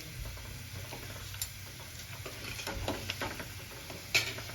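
Grated yam fries in hot oil for a Gujarati yam chevdo, a steady quiet sizzle broken by occasional stirring scrapes and clicks close by.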